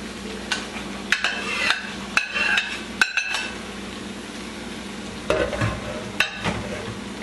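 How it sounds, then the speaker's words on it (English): Eggplant for bhartha being stirred in a pan over medium heat: a steady sizzle with scattered scrapes and clinks of a utensil against the pan, close and fairly loud, with no voices. "And just mix them really well"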